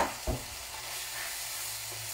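Ground meat with a seasoning packet sizzles quietly in a pan, a low steady frying hiss after a brief utensil knock at the start.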